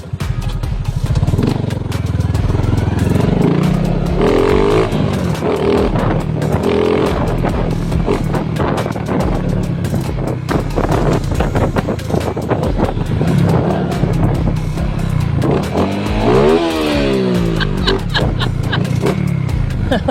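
A Honda XRM Fi motorcycle with a 57mm touring set revving up close, its engine rising and falling through repeated throttle blips with a rattling, buzzing exhaust, loud and continuous.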